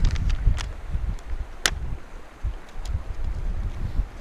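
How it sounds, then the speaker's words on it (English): Gusty outdoor wind buffets the microphone in uneven low rumbling bursts, moderately loud, with a few brief sharper clicks and no talking. "it is very windy out here today. Blowing all over the place."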